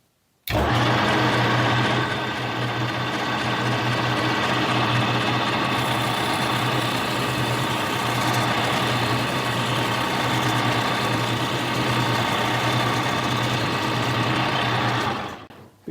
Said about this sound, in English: I'm going to put it into high gear and get a little oil here and start cutting it off